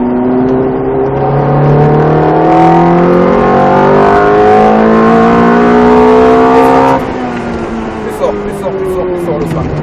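A Ferrari engine revving hard and climbing through the gears on a race track, loud and close from inside the car, the pitch rising steadily before easing off, with people talking over it.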